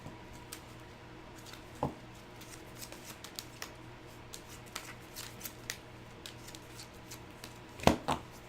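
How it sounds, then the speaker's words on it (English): A deck of Pokemon trading cards is shuffled during a tabletop match: soft, steady papery ticking and riffling, with two sharper card snaps standing out, quiet and close, with no talking. "Shuffle and draw 5."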